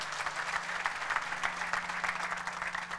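A church congregation at a gospel service claps together in a dense, even round of applause that holds steady throughout, with a faint low hum running beneath the clapping and no voices.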